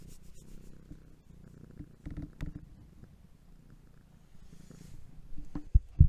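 A cat purring close up, a soft low rumbling purr in steady breathing cycles, with small rustles and bumps toward the end.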